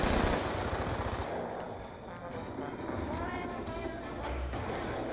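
An RPD machine gun fires in Call of Duty in rapid, loud, continuous bursts close by. Someone speaks over the shooting.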